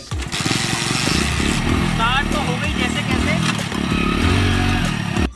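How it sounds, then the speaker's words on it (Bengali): A motorcycle running on a diesel and petrol mix chugs and sputters unevenly close by while a person talks over the rough engine noise. "বাইক একেবারে ফুল স্টার্ট হচ্ছে না, একটু যাচ্ছে আবার থেমে যাচ্ছে"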